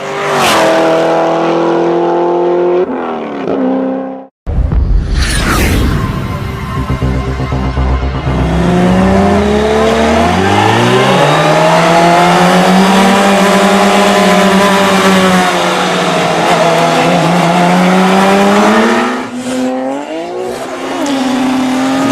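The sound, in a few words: Supra and Lamborghini cars racing, engines revving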